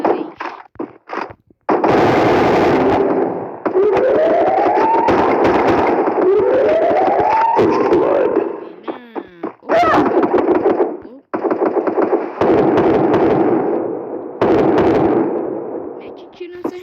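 Rapid automatic gunfire from a shooting video game, long loud bursts broken by short pauses, with game sound effects and a player talking over parts of it.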